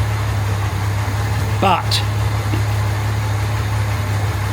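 A Jaguar MKII car engine idling steadily with a low, even hum throughout, while someone speaks briefly over it.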